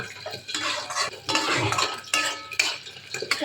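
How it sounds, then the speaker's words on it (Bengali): A potato and papaya curry with prawns and fenugreek is mixed in a pan with a metal spoon, giving repeated close scraping and clinking strokes in uneven bursts with soft sizzling underneath. "ভালো করে মিশিয়ে নিই"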